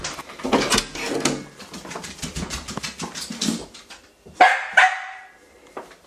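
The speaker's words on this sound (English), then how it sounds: "No barking." A dog barks in a few quick bursts after some shuffling and handling noises, fairly close, with soft whimpering sounds mixed in.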